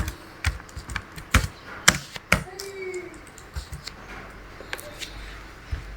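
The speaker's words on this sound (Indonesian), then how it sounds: "lalu kita ketik jumlah RP" Close keys on a computer keyboard are tapped in irregular bursts of single clicks while someone types into an Excel spreadsheet, with a few sharper, louder strikes among softer taps.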